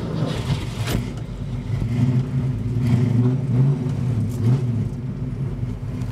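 A 1965 Ford Mustang Fastback engine idles with a deep, lumpy rumble, its exhaust note rising and falling slightly in a few short revs, close by.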